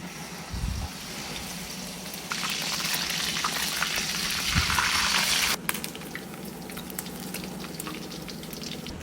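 Pork chop frying in hot oil, with a steady close crackling sizzle that swells louder for a few seconds when more meat goes in, then settles back to a busy spattering fry with a few soft knocks.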